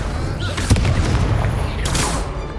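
A Confringo blasting spell goes off in Hogwarts Legacy as a booming explosion amid a loud duel, with a sharp impact burst followed by a second crackling blast over a rumbling, noisy background.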